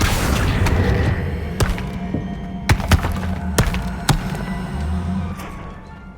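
Depulso force spells cast in Hogwarts Legacy, a series of sharp booming thumps and impacts spaced irregularly over a low rumbling backdrop, several distinct hits standing out loudly.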